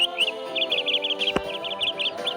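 Cartoon little bird singing sweetly, a run of quick bright chirps and tweets over a soft musical backing, with a single sharp tap partway through.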